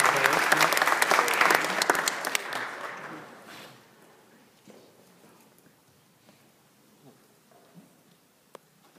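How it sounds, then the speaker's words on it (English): A room full of people applauds new Eagle Scouts at a ceremony, the clapping dense and loud for about three seconds, then thinning to scattered claps and quiet shuffling. "ask everybody to give you a quick round of applause"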